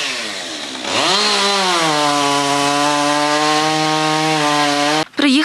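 Municipal workers' chainsaw cuts up a fallen tree, a loud continuous engine whine holding steady pitch for several seconds before cutting out abruptly, close and alone without speech.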